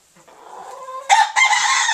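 Backyard flock of barred rock, Australorp and crossbred hens with roosters, clucking softly at first, then a loud rooster crow bursts in near the mic and carries on to the end.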